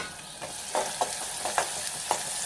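Onions and green chillies frying in a pan with curry leaves for tomato curry: a steady close sizzle with several spoon-scrape strokes spaced about half a second apart, no voices.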